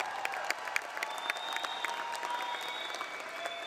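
Graduates of a 2024 community college commencement ceremony get steady applause from a large crowd, a dense patter of claps with a few sharper individual claps, moderately distant.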